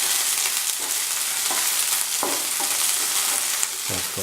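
Green chili, spring onions and salt saute in a hot pan, a continuous close sizzle broken by several soft scrapes and stirs of a spoon.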